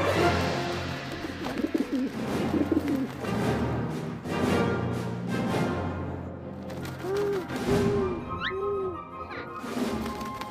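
Soft pigeon coos repeat a few times over a busy background of clattering and thuds, with a brief sharp knock partway through.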